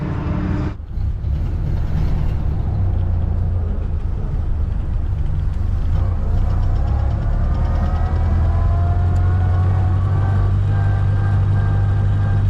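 A 1930 Ford Model A engine runs steadily with a deep low rumble and droning hum, close and loud, holding an even pace from start to finish after a brief knock near the beginning.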